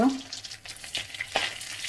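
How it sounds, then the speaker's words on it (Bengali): Crabs frying in hot oil, turned red in the pan, give a steady close sizzle with bursts of spattering and stirring noise, alone with no talk. "কাঁকড়াগুলো লাল লাল ভাজা হয়ে গেছে"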